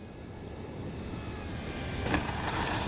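An FMS Ranger 1800mm radio-controlled model airplane's engine hums steadily at a distance, gradually growing a little louder, with a thin high whine over it.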